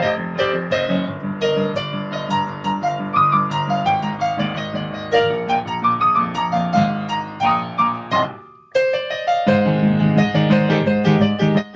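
Solo piano performance of a piece, dense chords and melodic runs played steadily and loudly, with a brief near-silent pause around the eighth second before the piece resumes at full volume.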